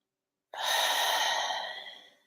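A single deep, slow breath during guided meditation, with a long, airy exhale that starts abruptly and fades out over about two seconds, close and fairly loud with no talking.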